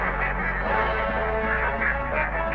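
Little ducklings and goslings on a rural household farm quack in a dense, continuous chorus. The sound stays busy and close throughout, with no pauses.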